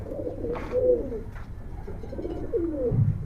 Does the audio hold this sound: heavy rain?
no